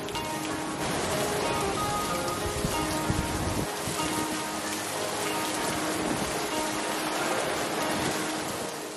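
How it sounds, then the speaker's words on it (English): Steady monsoon rain falls heavily, a dense, even wash of drops pattering on surfaces, loud and constant with no voices. "it's been raining almost every day ever since."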